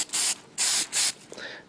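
A spray can of repositionable adhesive hisses in three steady bursts, close and loud, followed by a softer short spray and a click.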